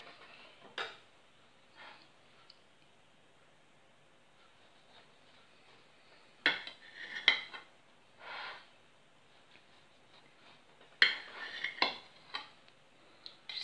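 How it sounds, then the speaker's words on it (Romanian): A knife cuts through a fluffy egg-white cocoa loaf cake, giving a few soft, scattered scrapes and light taps against a plate or board, quiet and close, with brief busier clusters of contact sounds near the middle and the end. "Și să tăiem o felie să vedem cum arată și în interior."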